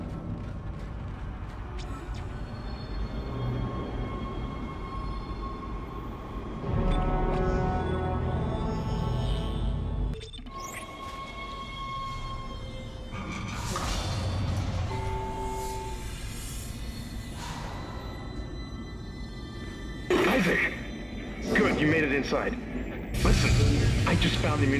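Tram ride in the sci-fi horror game Dead Space, with a steady mechanical rumble and clanking rail machinery, whirring gears, and shifting louder surges and bangs as the car moves, with a voice speaking at times.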